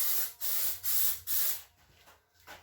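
Plasti Dip goes on as a light tack coat from an aerosol can. Four close, strong hissing bursts come in steady rhythm, followed by a few fainter, shorter sprays, with no speech.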